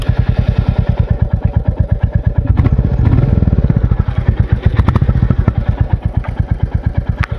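A Royal Enfield Classic 350 motorcycle engine idles and runs close by, a loud, steady thumping single-cylinder beat that holds an even rhythm with a slight rise in revs midway.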